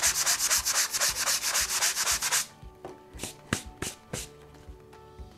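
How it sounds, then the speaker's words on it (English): A drywall repair is sanded by hand in a quick series of rhythmic rasping strokes up close, then the rubbing stops and a few light taps and knocks follow against the patched wall. "Maybe a little bit more sanding."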